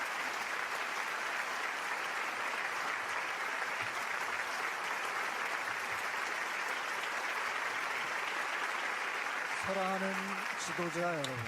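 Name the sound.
audience applauding warmly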